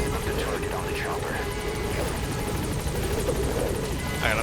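A helicopter in Metal Gear Solid 5 The Phantom Pain, its rotor a steady rapid chop and engine whine running loud and close, with a voice speaking over it.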